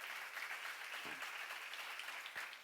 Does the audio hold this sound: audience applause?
yes